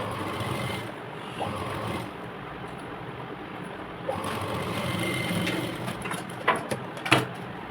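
Sewing machine stitching the sleeve of a baby frock in short bursts of rapid mechanical whirring, separated by brief pauses and small clicks, close and moderately loud.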